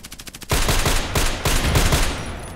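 DT SRS sniper rifle fire in the shooter game Contract Wars: a loud burst of sharp, rapid shots rings out suddenly after a soft rhythmic patter, with several closely spaced cracks that trail off gradually.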